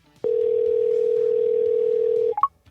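An iPhone placing a call through Siri: a single steady electronic ringback tone holds for about two seconds, then ends in two short rising beeps, clear and close with no talking.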